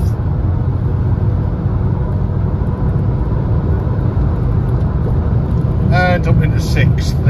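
Ford Focus 2.0 TDCi Titanium diesel accelerating up through the gears, a loud, steady cabin drone of engine and road noise with a brief higher rising whine near the end.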